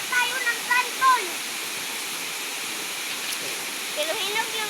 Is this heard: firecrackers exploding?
no